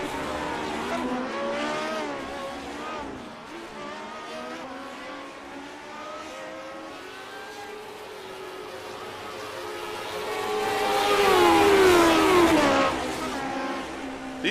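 Classic Lotus Grand Prix race cars at Road America in the iRacing sim cruise through a cool-down lap. Several engines whine and rev with rising and falling pitch, swelling louder as cars pass near the end.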